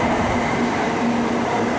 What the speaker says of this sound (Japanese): N700 系の最新型で修学旅行京都からお帰りといったところでしょうか。